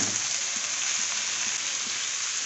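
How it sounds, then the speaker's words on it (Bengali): Onion and washed potatoes fry in hot oil in a wok, making a dense, continuous sizzle that stays loud and even throughout, with faint low knocks underneath and no talking. "তেল দিয়ে দেবো, পেঁয়াজ দিয়ে দেবো, একটু ভেজে নেবো, ধুয়ে রাখা আলু দিয়ে দেবো"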